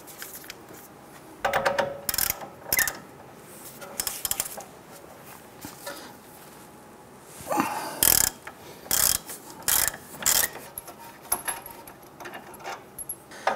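Ratchet with a 21 mm socket loosening an outer tie rod nut on a 2002-2008 Dodge Ram 1500, rapid close clicking in bursts with metallic clanks between, no talk.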